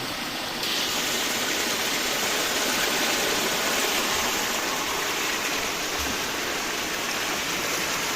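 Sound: rain-fed waterfall flowing in the garden

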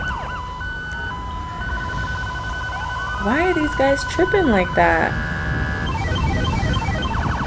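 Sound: police siren in video game GTA 5

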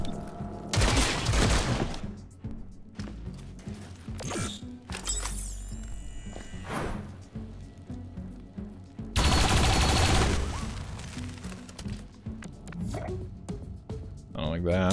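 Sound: gunfire in the video game XCOM Chimera Squad

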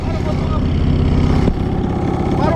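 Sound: fishing boat motor running

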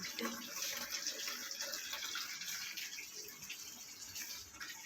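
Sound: running water for watering plants

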